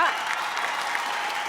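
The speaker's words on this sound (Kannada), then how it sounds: "ಒಂದು ಚಪ್ಪಾಳೆ ನಮ್ಮ ಅಮೇಝಿಂಗ್ ಜಡ್ಜಸ್ಗೋಸ್ಕರ." A studio audience on a Kannada comedy stage show claps together in a brief burst of applause that holds steady, with a voice audible over it.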